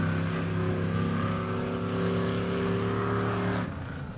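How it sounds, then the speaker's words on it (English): An off-road race vehicle roars off the start line toward the first bend at an Every Man Challenge qualifier, a loud sustained engine drone that holds steady, then drops away near the end. "engine blazing as he roars towards that first Talladega bend"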